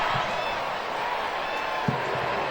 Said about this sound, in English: And the crowd is roaring